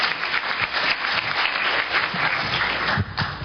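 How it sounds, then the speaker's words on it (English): An audience at a science communication seminar applauds a speaker, a steady wash of many hands clapping throughout. "Please give him a round of applause for John Timpane."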